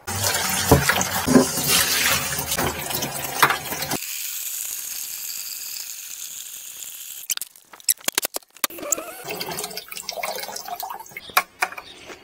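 Water gushes from a tap into a bucket being filled with about five gallons for washing a van, a loud rushing splash for several seconds, then it cuts off, leaving faint hiss and scattered knocks and clicks of handling.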